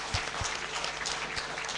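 Audience applause for the panel members at the close of a Malaysian public forum, steady broadband clapping filling the short stretch at moderate level, with no talking over it.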